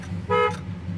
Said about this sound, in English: Horn works.